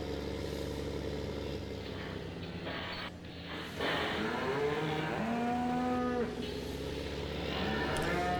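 Dairy cattle moo in the Farming Simulator 15 video game, several drawn-out low calls overlapping over a steady engine-like rumble of farm machinery, with no talking.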